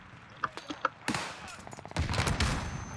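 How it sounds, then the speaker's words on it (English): Gunfire in Call of Duty Warzone on the Caldera map: a few separate distant shots, then a sudden burst of rapid automatic fire followed by a denser, louder spray of shots and rumbling action. "Hey, who's shooting at me?"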